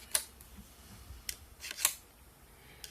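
Clicks from a knitting machine carriage during a bench test, a few sharp, quiet ticks spread across a near-silent moment, close and isolated.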